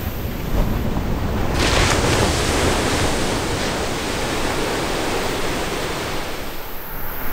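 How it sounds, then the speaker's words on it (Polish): Ocean surf washes steadily onto a beach in remote Hokkaido, Japan: a continuous, broad roar of breaking waves with wind buffeting the microphone, loud and close throughout with no voices. "Szum fal."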